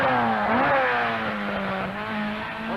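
A rally car climbing a hill during the 1976 Circuit of Ireland Rally, its engine loud and close, revving hard with a quick pitch shift early on, then holding a strained, steady drone, with no voices.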